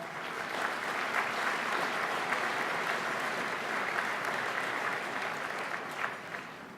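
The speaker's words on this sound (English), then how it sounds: "And a round of applause" Audience at a business awards ceremony clapping loudly and steadily, a dense sustained round of applause without pause and with no talk over it.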